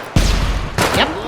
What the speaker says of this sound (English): Pretty sure that's a grenade.